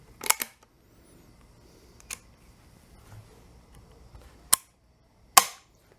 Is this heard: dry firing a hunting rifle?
yes